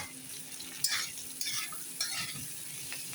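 Vegetables frying in a pan with salt before semolina goes in for upma: soft sizzling under repeated scraping strokes of a spatula, several distinct stirring bursts close by.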